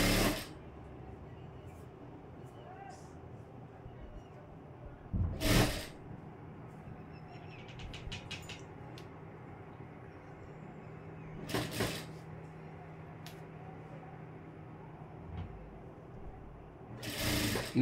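A home sewing machine runs in a steady mechanical whir while stitching the front panel of a blouse, with a few louder knocks and clicks between runs.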